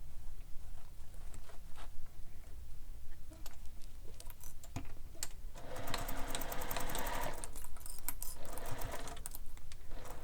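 Sewing machine stitching along the curved seam of a handmade bag, a steady close mechanical whirr running throughout with light clicks and taps, louder and denser in the middle stretch.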